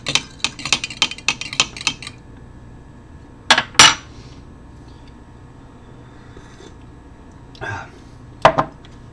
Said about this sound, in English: Alright, and we're going to stir this up again